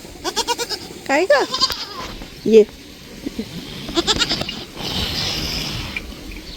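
A young buffalo calf gives several short bleating calls close by, mixed in with people talking.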